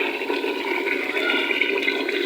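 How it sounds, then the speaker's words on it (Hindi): Water pours steadily into a pot of chicken korma, a continuous splashing, gurgling stream that is fairly close and moderately quiet, with no talk over it. "अब मैंने इसके अंदर थोड़ा सा मज़ीद पानी डालना है"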